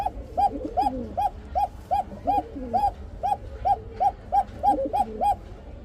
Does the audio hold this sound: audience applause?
no